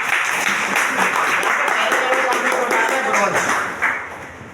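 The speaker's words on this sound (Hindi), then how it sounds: "मैं चाहूंगा एक बार जोरदार ताली होने चाहिए" Loud, dense clapping fills a seminar hall, a sustained round of applause from the audience that holds steady before tapering near the end.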